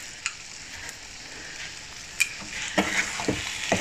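Lemon pickle with rock salt being stirred in a pan, a soft sizzle running throughout with a few light scraping clicks of the spoon that grow busier toward the end, close and fairly quiet.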